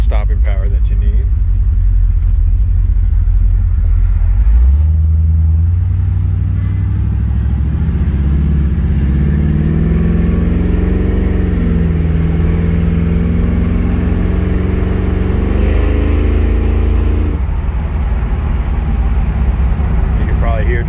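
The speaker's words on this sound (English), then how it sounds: "You can probably hear just how smooth the transmission dropped down into gear." A 1969 Camaro drives along, its engine rumbling loud and close as the revs climb and fall while the transmission shifts smoothly down through the gears, with someone talking over it.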